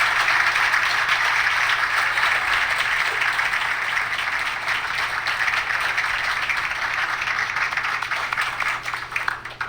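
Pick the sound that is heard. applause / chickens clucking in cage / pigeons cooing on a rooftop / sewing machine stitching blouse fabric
applause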